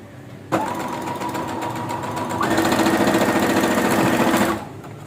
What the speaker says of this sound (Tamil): இல்லை இப்படியே மடிச்சுட்டு இந்த மாதிரி மிஷினில் வச்சும் ஸ்டிச் பண்ணிக்கலாம்.